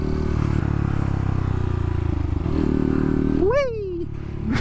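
A Honda Grom, a small motorcycle, rides along with a steady close engine drone and rattling, then briefly revs up and drops back near the end.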